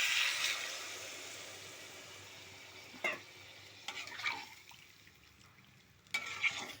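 Hot water goes into a sizzling jackfruit masala, giving a loud burst of hissing that fades into quieter frying, broken by a few spoon scrapes and stirs in the pan; nobody speaks.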